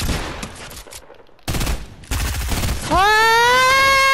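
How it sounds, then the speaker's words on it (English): Pump shotgun shots and other gunfire crack through a noisy Fortnite match, loud and close in bursts, ending in a sustained rising electronic tone. "This is a clip, which I will show you, of me using pump shotgun"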